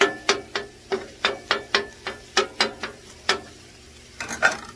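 Metal spatula chopping ground beef on a flat-top griddle for a chopped cheese, a steady run of about a dozen sharp scraping clacks in quick rhythm, close and clear over a faint sizzle.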